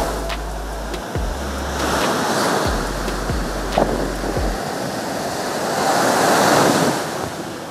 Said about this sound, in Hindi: लहरें बड़ी जबरदस्त है आज, ये पूरा हाई टाइड है, लहरें बहुत तूफान पर हैं।